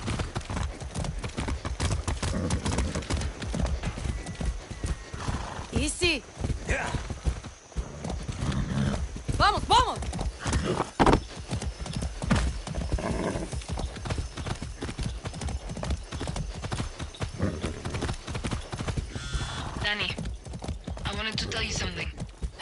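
A horse in the video game Far Cry 6 clops along with steady, close hoofbeats, letting out a few whinnies along the way, while voices talk intermittently over the galloping.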